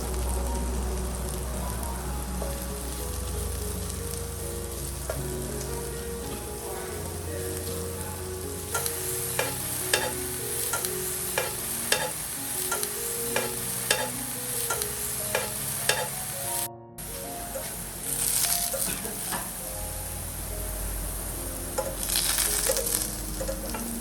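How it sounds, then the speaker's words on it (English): Sliced mushrooms sautéing in a hot pan, a continuous close sizzle broken by repeated sharp clicks and scrapes of a utensil as they are stirred, with no one speaking. "Slice the mushrooms into bite-sized pieces and sauté them until soft and fragrant."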